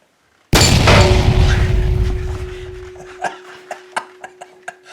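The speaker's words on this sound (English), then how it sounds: "Now I fired up the incinerator on the other side of my workbench right here." An incinerator beside a workbench is fired up as an old tie rod part goes in, giving one sudden loud boom with a long roaring decay, followed by a series of sharp crackling pops.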